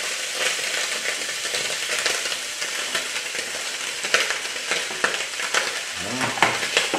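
Onion tossed into a hot pan of seared meat pieces, a dense continuous sizzle with crackles and scraping stirs throughout, close and loud, no talking.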